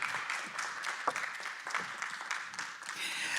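An audience at a regional symposium gives a round of applause to welcome a speaker, with uneven clapping that swells and thins and a few louder individual claps standing out.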